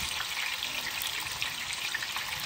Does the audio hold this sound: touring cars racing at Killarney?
no